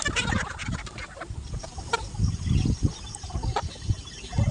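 Chickens and roosters on a poultry farm cluck and rustle close by, overlapping calls and scratching in an irregular busy stream with no clear pauses.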